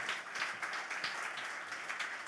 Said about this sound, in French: Est-ce qu'on peut applaudir le service d'accueil, mes frères et sœurs?